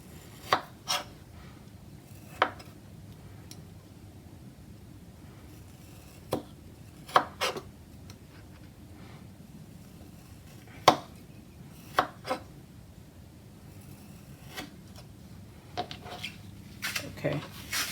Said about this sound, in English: with these kiwi fruit, we're going to slice them fairly thin so that they can fit in our tarts